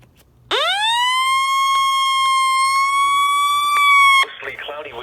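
An Emergency Alert System alert tone rises into a loud, steady, piercing tone that holds for about four seconds before a voice begins speaking at the end.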